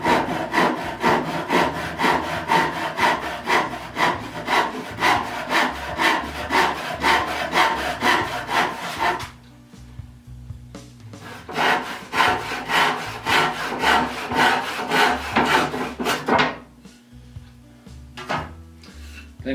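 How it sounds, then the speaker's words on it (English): Close, rhythmic rasping strokes of a small 10 point per inch hand saw cutting wood for a Shaker peg rack, two long bursts of sawing separated by a short pause, then a few final strokes. "using this little 10 point per inch saw, I'm going to cut on the side opposite the line"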